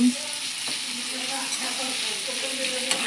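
Tomatoes roast and sizzle in a hot pan for a pea rice dish, a steady broadband frying hiss running close and even throughout, with a few faint clicks and no talk.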